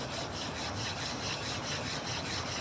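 A whetstone is flattened by rubbing it against a coarse stone, producing a close, rhythmic gritty scraping of repeated back-and-forth strokes, with no talking.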